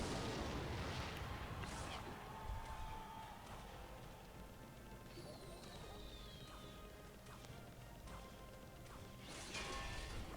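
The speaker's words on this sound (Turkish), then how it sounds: "Evet onu şöyle bir roket basalım." A Rocket spell lands in a Clash Royale match with a sharp crashing impact, and smaller hits and clatter from the game continue over a busy, steady backdrop.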